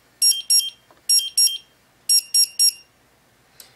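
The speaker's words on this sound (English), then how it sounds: "the alarms go out because it knows it was in a bump situation" A Draeger X-am 2000 gas detector alarm during a bump test, electronic beeps in short shrill bursts, two then two then three, loud and close, with quiet gaps between groups.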